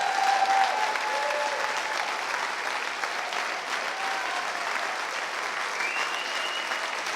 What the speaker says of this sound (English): Can we have a massive, massive round of applause?